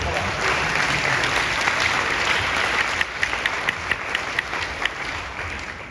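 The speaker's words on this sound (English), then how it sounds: "Let's give them a round of applause." A room full of people applauds a team that has just finished presenting, with steady dense clapping throughout and a few sharper individual claps standing out near the end.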